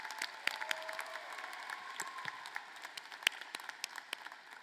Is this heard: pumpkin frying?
no